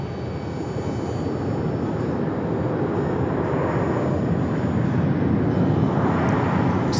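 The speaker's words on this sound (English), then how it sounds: "This flight coming in from Los Cabos, American 2128 on the A321." An American Airlines Airbus A321 arriving from Los Cabos lands at Phoenix Sky Harbor with a steady, broad jet roar heard from some distance that swells gradually toward the end.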